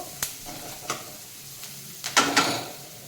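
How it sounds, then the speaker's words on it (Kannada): Onions frying in a hot pan while being stirred, with a soft steady sizzle broken by several sharp scraping clicks of the spoon against the pan and a louder pair of stirring scrapes near the end. "ಹಾಕೊಂಡು ಚೆನ್ನಾಗಿ ಫ್ರೈ ಮಾಡ್ಕೋಬೇಕು ಈರುಳ್ಳಿನೂ ಅಷ್ಟೇ"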